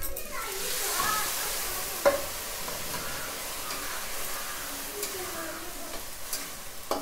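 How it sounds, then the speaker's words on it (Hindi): Masala for a jackfruit curry fries in a pan, giving a continuous hissing sizzle up close, with a few light stirring knocks and scrapes scattered through it. "थोड़े देर ले मसाला के भूनने के लिए छोड़ते हैं, तब मसाला पक जाएगा"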